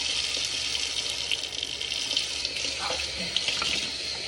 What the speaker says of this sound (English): I know I kept the water running, but I knew I was about to use it.